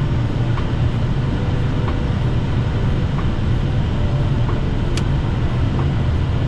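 Steady, loud broadband rumble and roar inside an Airbus A320 rolling along runway 05 at Hamburg airport after landing, continuous throughout with a few faint clicks and no voices.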